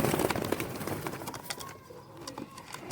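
Teddy breed pigeons coo and rustle in a busy loft, a dense run of soft calls and fluttering close by, fading slightly toward the end.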